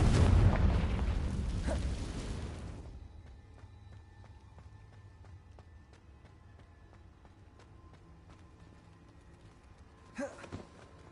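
A Confringo fire spell explodes in Hogwarts Legacy, a loud rumbling blast that decays over a few seconds into quieter game ambience, followed by a short thump near the end.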